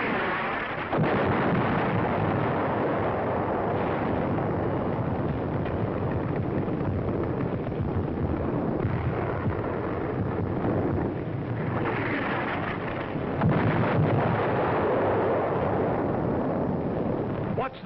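Artillery fire and shell blasts on a North African battlefield, a dense continuous roar of wartime combat audio with rumbling bursts throughout and a heavier surge near the end, with no clear talk.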